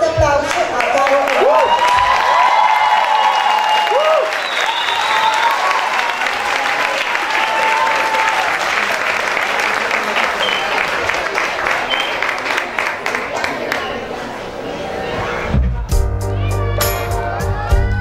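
Sustained applause from a crowd at an album launch concert, dense and loud, with cheers and whoops over it, fading before music starts at the end.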